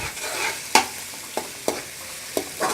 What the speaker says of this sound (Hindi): थोड़ा फ्राई कर लेंगे